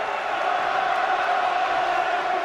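Home supporters at a Watford versus Manchester United match roar and cheer in a sustained, dense wall of crowd noise, steady and loud throughout.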